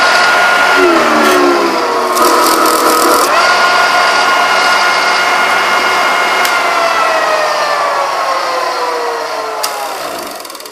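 A 2 CV generator motor slowing and bogging down as an electric iron draws load, a steady loud mechanical drone whose pitch gradually sags across the clip, with no talk.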